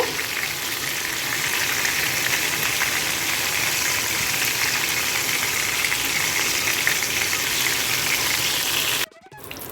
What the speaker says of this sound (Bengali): ভেটকি মাছটা দেখো আমার ভাজা হয়ে গেছে